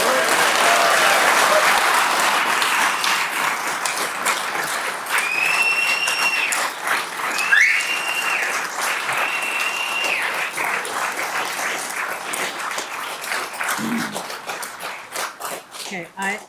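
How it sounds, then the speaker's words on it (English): An audience at a utility board meeting applauds loudly and steadily, the clapping tapering off near the end while a voice speaks over it partway through. "I appreciate the applause"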